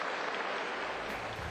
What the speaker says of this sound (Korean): 시민들의 환호와 함께 박수가